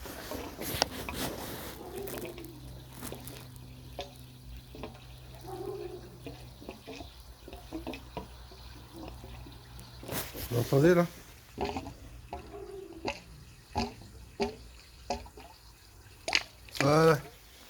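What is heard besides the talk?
water filling an underfloor heating circuit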